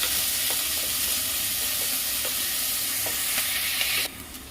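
Two dried red chillies fry with onions in a pan for a jackfruit curry, giving a steady, close hiss of sizzling oil with light scraping as the spoon stirs, and the sizzle suddenly drops lower in the final half-second.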